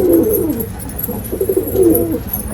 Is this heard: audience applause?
no